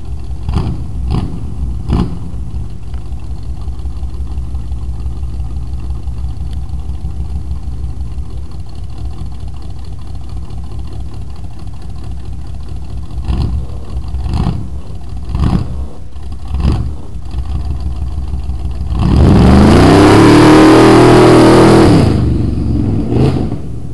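A Blazer mud racer running a new 650 Edelbrock carburetor idles with a low, steady rumble and a few sharp blips, then revs hard into a loud, sustained roar that rises and falls before dropping back.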